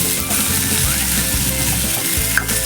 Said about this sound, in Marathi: हे देखील आपण या मसाल्यांच्या सोबत छान असे परतून घेऊया